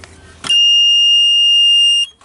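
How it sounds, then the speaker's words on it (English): A loud, steady electronic beep from the backup alarm of an EZGO Workhorse golf cart sounds once for about a second and a half, piercing and close, then cuts off abruptly. "That's the backup alarm switch."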